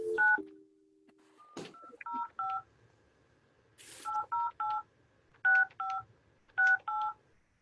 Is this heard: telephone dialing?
yes